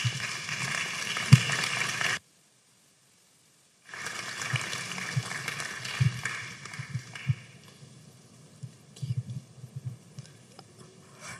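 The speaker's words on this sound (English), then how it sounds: "So if you could welcome her up with a round of applause." An audience claps to welcome a young speaker giving a confirmation testimony. The dense clapping runs about two seconds, stops for a quiet gap, then returns and gradually thins out.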